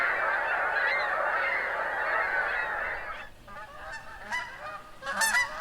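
A large flock of Canada geese honks in a dense, continuous chorus during spring migration, then the calls thin out to a few scattered honks, some louder and nearer.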